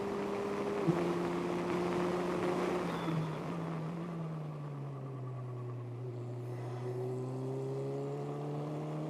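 A steady race car engine drones throughout on a track at the GP Explorer race, its pitch shifting and gliding lower partway through, loud and continuous with no voices.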